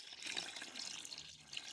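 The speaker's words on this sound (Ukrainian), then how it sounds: "заливаю це все гарячою водою," Hot water poured steadily over chicken feed in a container, a continuous close splashing and trickling stream lasting the whole short moment with no talk.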